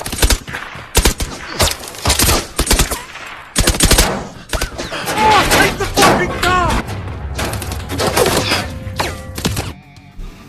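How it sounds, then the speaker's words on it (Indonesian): A fierce film gunfight: dense bursts of automatic fire and single shots crackle and thud almost nonstop, loud and close, with a few voices woven into the chaos. "Terjadi baku tembak sengit."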